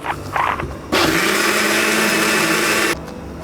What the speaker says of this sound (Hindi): अब हम ब्लेंडर मशीन को